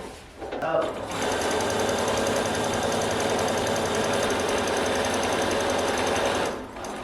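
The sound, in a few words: sewing machine joining fabric panels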